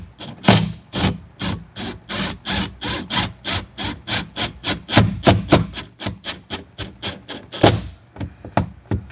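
Self-tapping screws being driven by hand into a camper window trim ring, a steady rhythmic series of close rasping, grinding turns repeating about three times per second.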